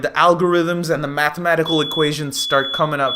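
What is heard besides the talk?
smoke alarm going off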